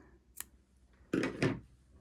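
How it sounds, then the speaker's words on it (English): Scissors snip through yarn for a temperature blanket: a faint click first, then two close, crisp cuts in quick succession, heard alone in a quiet room. "snip it off"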